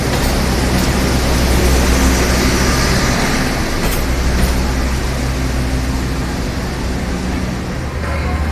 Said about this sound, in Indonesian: Akhirnya kedatangan kereta api Jayabaya